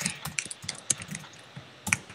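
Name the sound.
computer keyboard typing while playing Minecraft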